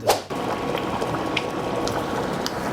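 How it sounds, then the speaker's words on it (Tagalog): Menudo stew of pork and chicken boiling in a pot, a steady close bubbling and simmering throughout, opening with a short clatter of utensils. "at kumukulo na siya"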